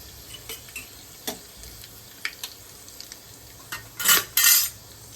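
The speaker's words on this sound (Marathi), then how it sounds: "मोहरी, कढीपत्ता, हा सगळा खडा मसाला घालून दिला." Mustard seeds, curry leaves and whole spices tossed into a hot pan for a Marathi spiced rice with fresh broad beans, giving scattered clicks and clatters and then a burst of loud sizzling spatter near the end.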